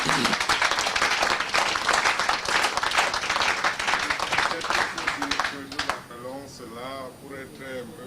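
An audience at a church recognition ceremony bursts into dense, loud applause that rolls on for several seconds, then fades as a voice begins speaking over the dying claps.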